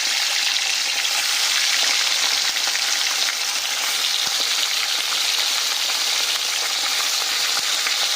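Fish heads from kalbasu and rohu fry in hot mustard oil in a pan. A loud, continuous close sizzle crackles steadily throughout, with a couple of faint clicks.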